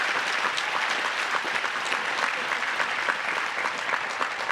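Commencement audience at the Kresge College ceremony, UC Santa Cruz, applauding steadily, a dense even wash of clapping from a large crowd throughout without a break.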